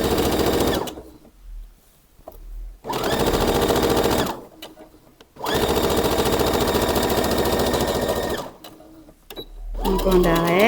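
A sewing machine stitches a seam on a tailored kimono top in three loud, steady runs of a few seconds each, separated by pauses where a person speaks.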